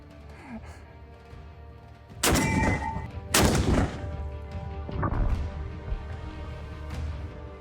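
Two loud, sharp broadband impacts about a second apart from a Soviet World War II 14.5mm anti-tank rifle firing at 20mm IFV steel plate outdoors, followed by fainter rumbling thuds and a lingering low background.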